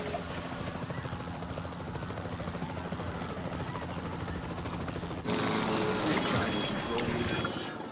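Capture team helicopter in Jurassic World Evolution 3, a steady rotor drone running throughout, turning louder and brighter near the end as other game noise swells over it.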